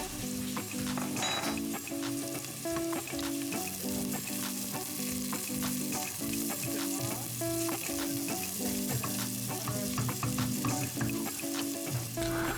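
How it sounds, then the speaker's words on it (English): Mustard and cumin seeds sizzle and pop steadily in a hot pan, with a spoon stirring and clinking against the metal now and then, loud and continuous throughout. "Add the mustard seeds and cumin seeds and carry on stirring from time to time."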